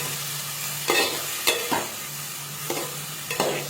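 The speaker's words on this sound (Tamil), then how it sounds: "நல்லா வதக்கிக்கலாம்" Chopped tomatoes sizzle quietly in a pan while a spoon scrapes and stirs in several distinct strokes, close up, with no talking.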